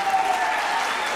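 A hall audience applauds the musicians at a winter concert by a community wind band in Saint-Laurent-Blangy, with a short, loud, even burst of clapping.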